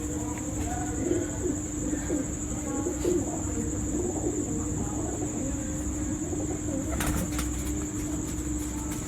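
A Salaray teddy pigeon coos softly amid chirping crickets and a steady high insect whine, with a short burst of wing flapping near the end.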